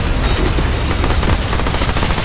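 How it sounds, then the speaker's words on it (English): Grenades going off in the video game Remnant 2 during a boss fight against Gorge the giant rat, a loud dense barrage of rapid blasts and booms packed close together, with no talking over them. "Switch to the grenades I've got here."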